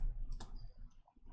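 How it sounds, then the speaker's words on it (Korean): A computer mouse clicking during desktop design work: two or three quick, sharp clicks close together near the start, quiet and close, followed by near silence. "마우스를 클릭한 다음에"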